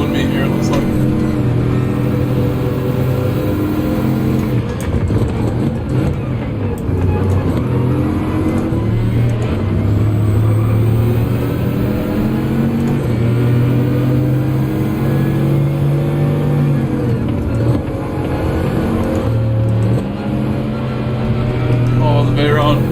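Race car engines in Gran Turismo 7 with a Bugatti Veyron, droning and shifting pitch as cars accelerate and rev through gears in a continuous loud run, with a voice talking over the engine sound throughout.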